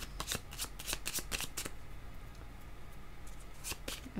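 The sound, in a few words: shuffling tarot cards to draw another card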